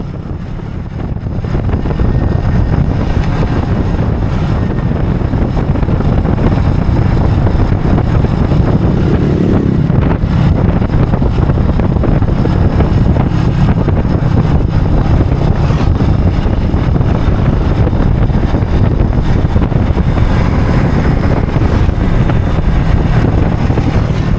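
A Yamaha W175 motorcycle cruises along a smooth open road under 60 km/h, its steady low engine hum blended with constant rushing wind buffeting the helmet microphone, continuous and loud with no talk.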